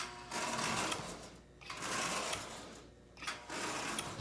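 A Marx 400 double reduction toy train motor runs with a fast whirring mechanical buzz in three sustained stretches separated by brief pauses, close and moderately loud.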